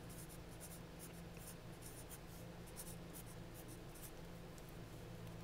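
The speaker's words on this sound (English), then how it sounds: "You're going to write quadratic function." A pen or pencil writes on a paper foldable for quadratic function notes, a close, steady scratching and scraping with faint rhythmic strokes and no talk.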